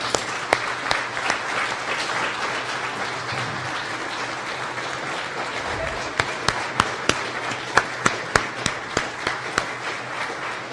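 Sustained applause from a graduation audience at a regional medical center ceremony, honoring the graduates' families; steady dense clapping with sharper individual claps standing out toward the end, no voices.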